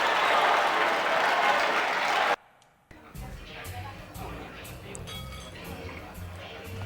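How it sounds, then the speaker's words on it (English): Sustained applause from a crowd in a Knights of the Old Republic video game scene fills the opening seconds, then cuts off, leaving quieter clinking and background sounds with scattered voices. "Okay, that's a lot of persistent clapping."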